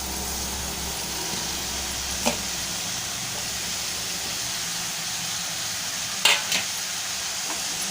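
Soft, steady sizzle and hiss of chopped spring onion greens frying in a pan for a Malvani-style bhaji, with a couple of brief clinks as they are stirred.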